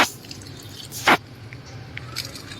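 Ration rice washed in water by hand, giving soft, close splashes and squishing: one at the start and a louder wet burst about a second in, with faint drips afterward.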